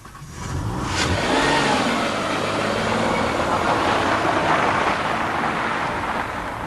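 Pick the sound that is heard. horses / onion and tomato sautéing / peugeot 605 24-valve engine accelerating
peugeot 605 24-valve engine accelerating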